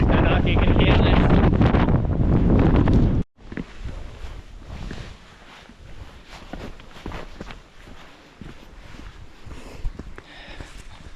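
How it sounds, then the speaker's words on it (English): A strong, cold wind roars loudly across the microphone for a few seconds, then drops to quieter gusty outdoor noise with scattered footsteps. "Very windy, very cold"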